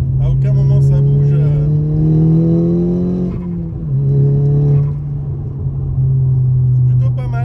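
A four-wheel-drive car cruising on the road, a loud steady engine drone heard from inside, the pitch rising as it accelerates, dipping briefly, then settling; someone talks over it.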